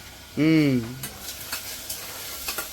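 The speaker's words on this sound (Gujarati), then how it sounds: "કાંદા આપણા ફટાફટ સોટે થઈ જાય, ગોલ્ડન બ્રાઉન થઈ જાય" Onions sauté with salt in a pan, giving a soft sizzle broken by scattered stirring scrapes and taps, after a brief voice-like tone at the start.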